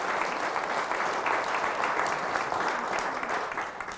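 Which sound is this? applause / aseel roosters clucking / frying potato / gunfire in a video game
applause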